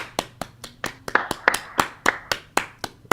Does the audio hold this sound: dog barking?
no